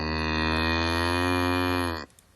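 A cow mooing at a farm animal sanctuary: one long, loud, tonal low moo sustained for about two seconds before cutting off abruptly, close to the microphone.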